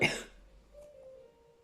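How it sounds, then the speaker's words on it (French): A single sharp, close cough bursts out at the start, then fades to near silence with only a faint lingering tone. "Oui, je tousse toujours."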